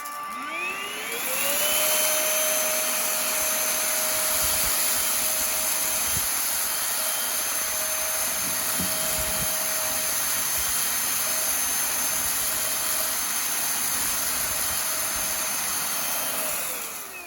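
A cheap no-name cordless stick vacuum whirs up to speed on carpet and runs with a steady high-pitched motor whine for a long stretch, then begins to wind down.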